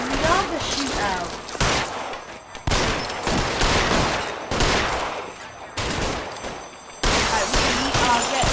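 Gunfire shootout in L.A. Noire, loud repeated bursts of shots in uneven volleys, each burst cutting off sharply before the next.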